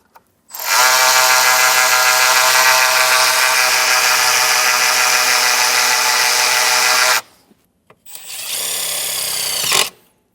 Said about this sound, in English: now we can start drilling through